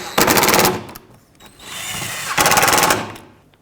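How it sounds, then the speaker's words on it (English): A power tool drives the lower headlight bolt on a 2008-2010 Ford F-250, loud rattling bursts of impact hammering in two main runs separated by a brief pause, close up and with no talking. "Let's put in the lower bolt."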